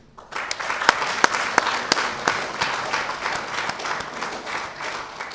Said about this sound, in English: can we give a big round of applause to our former Permanent Secretary, Dr. Yusufa Toure, here present